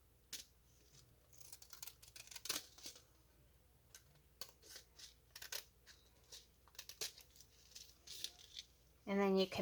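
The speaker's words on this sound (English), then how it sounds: "I just grab a pair of scissors afterwards and I just trim this, trim it down." Scissors snip a shaker card panel down to size, crisp close cutting clicks and rustling paper in irregular bursts, a louder handling noise at the very end.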